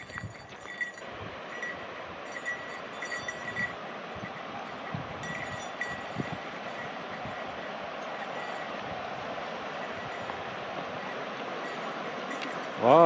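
A mountain creek runs in a steady broadband rush that holds level for about thirteen seconds, with a few faint knocks and a sudden loud burst at the very end.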